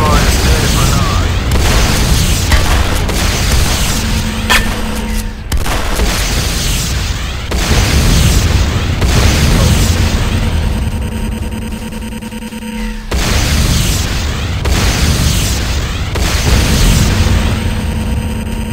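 An enemy structure blows up in the video game Renegade: heavy booming blasts rumble one after another in waves, with a game voice speaking over the steady din.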